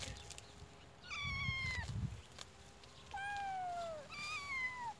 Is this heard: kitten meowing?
yes